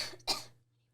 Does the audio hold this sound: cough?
yes